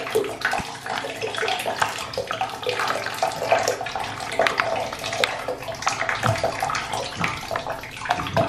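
Hot melting gallium, with Orbeez added, pops and crackles continuously up close in a dense, irregular patter of small bursts.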